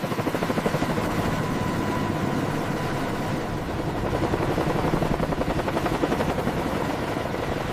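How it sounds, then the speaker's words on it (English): A CH-53K King Stallion heavy-lift helicopter in flight, its 22,500-horsepower engines driving a steady, loud, thumping rotor beat that stays close and constant throughout without any talk. "Chase aircraft captures the King Stallion's first flight maneuvers."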